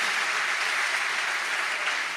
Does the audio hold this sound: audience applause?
yes